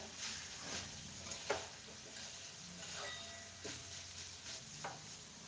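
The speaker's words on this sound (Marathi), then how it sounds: "आता ही शेंगदाण्याचं कूट आहे ते सगळं आता मिक्स करून घेते" Crushed peanut powder is stirred into cooked beans in a pan: quiet, soft scrapes every second or so over a faint hiss of cooking, with no talking.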